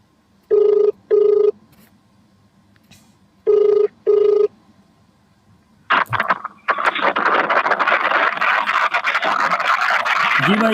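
Ringback tone on an outgoing phone call, two pairs of loud, evenly spaced beeps, followed by a burst of scratchy, rustling noise that continues to the end.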